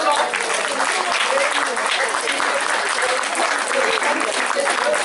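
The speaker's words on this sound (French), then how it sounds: "Je pense que vous pouvez tous les applaudir." After a spring celebration show, a large audience applauds loudly and steadily in a dense, unbroken wash of clapping with crowd voices mixed in.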